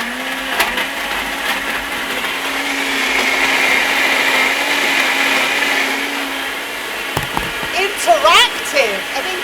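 A noisy blender about ten years old runs steadily for several seconds with a loud, sustained whirring drone, then winds down, and a voice speaks briefly over it near the end.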